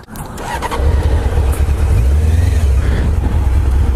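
An old motorcycle engine running warm, a steady loud low rumble that holds evenly after a brief start, close by with no speech.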